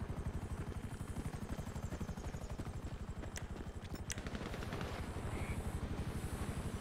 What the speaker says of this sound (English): helicopter should be near here.